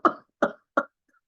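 A person imitates a whooping cough (pertussis) paroxysmal coughing fit: three sharp, evenly spaced coughs in quick succession, close and loud, then silence.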